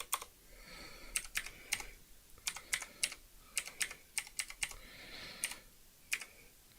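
Someone types on a computer keyboard in a quiet room, with irregular bursts of crisp, close keystrokes separated by short pauses.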